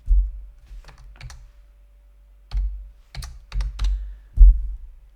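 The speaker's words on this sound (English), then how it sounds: "I'm having a lot of trouble typing tonight." Computer keyboard typing in a quiet room: a few isolated taps, a pause, then quicker bursts of keystrokes, close and fairly soft with no talking.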